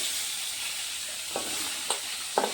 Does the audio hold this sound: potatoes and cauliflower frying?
yes